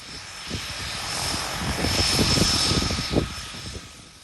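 Propeller airliner engines run steadily at an island airfield beside the runway, a loud droning roar with a pulsing beat of the blades that swells slightly as the blade pitch changes, heard without talk.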